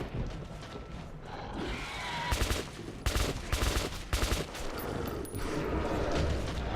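Gunfire in the Metro 2033 Redux video game: repeated bursts of shots, loud and close, cluster between about two and five seconds over a steady background rumble, with no talk.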